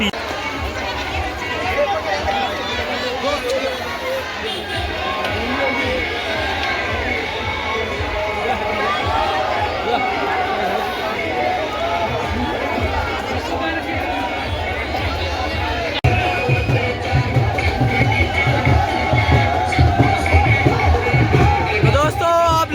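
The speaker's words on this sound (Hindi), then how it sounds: "संतोष भाई के साथ बहुत बड़ी भीड़ उमड़ पड़ी है यहाँ पे संतोष भाई के सपोर्ट में" A large crowd gathers at a political support rally in Rudraprayag, with dense, continuous babble of many voices, shouts and occasional cheering up close, growing louder and more animated toward the end.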